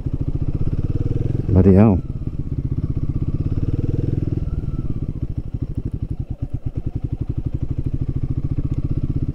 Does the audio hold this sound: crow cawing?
no